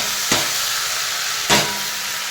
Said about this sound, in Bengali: পেঁয়াজটা হালকা ভাজা হয়ে গেছে, হালকা মানে ভালোই ভাজাটা হয়েছে, আর বেশি ভাজবো না।